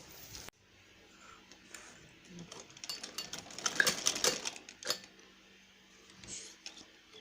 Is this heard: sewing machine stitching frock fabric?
yes